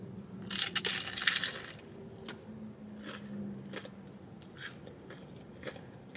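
Crunchy bites into a crispy Taco Bell Cantina Cheesy Melt taco, a loud burst of crackling crunches up close early on, followed by quieter chewing and a few sharp crisp snaps.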